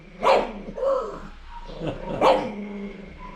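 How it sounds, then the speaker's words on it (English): A dog barks and growls angrily at its food, giving three close, gruff bursts with short growling pauses between them. "He sits there and barks at his food and gets angry."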